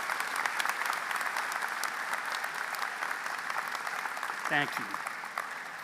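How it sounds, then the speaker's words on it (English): A convocation ceremony audience applauds steadily, with dense sustained clapping throughout and a brief spoken thank-you partway through. "A warm round of applause for all our"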